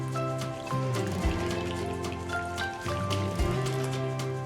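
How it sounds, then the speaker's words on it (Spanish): Warm water, 175 ml, pouring steadily onto flour and crumbled yeast for homemade bread, a continuous close trickle with a few brief gurgling changes and no talking. "vertemos 175 ml de agua tibia"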